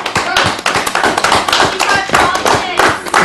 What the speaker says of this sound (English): if we get a round of applause from the audience